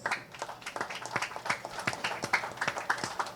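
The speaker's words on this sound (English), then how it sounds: "Please, a big round of applause." A small audience at the launch of Shobhaa De's book Insatiable gives a round of applause, fairly quiet and sparse, with individual claps standing out in a quick, uneven patter.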